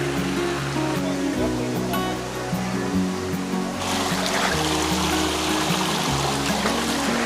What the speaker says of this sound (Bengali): এই পাহাড়ের মধ্যে বড় ঝর্ণা ছাড়াও এখানে বেশ কিছু এরকম ছোট্ট ছোট্ট জলধারা রয়েছে